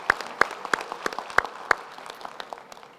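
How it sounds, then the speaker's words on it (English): Applause at a university graduation ceremony comes as sparse, sharp claps in a loose, fairly even rhythm, a few hands standing out near the front before thinning and fading. "a round of applause for this thought-provoking address by Advocate Strubel"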